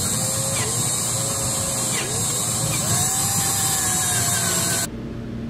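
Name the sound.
drilling out oil holes in a Predator 212 engine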